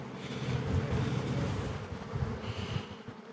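Honey bees during a hive inspection, a dense, continuous buzzing drone close to the microphone, swelling and easing slightly with some wind rumble underneath and no speech.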